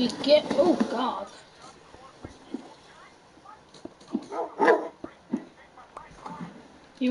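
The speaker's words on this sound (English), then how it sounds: "Didn't know I had a dog." A dog in Minecraft gives soft whimpers and small yips in scattered bursts, mixed with quiet, breathy talk from a player.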